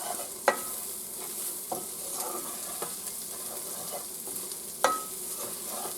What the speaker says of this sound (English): Now we're going to add a little more flour, just little by little.